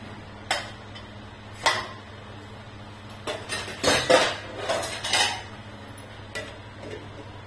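Shepu and chuka greens being stirred in a metal pot, with irregular spoon clinks and scrapes against the sides, some quick bursts close together.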